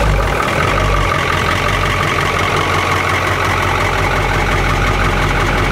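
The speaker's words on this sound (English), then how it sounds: "Starting port engine." The port engine of a coastal patrol boat runs at a steady, loud idle, a continuous low rumble with no pauses and no talking over it.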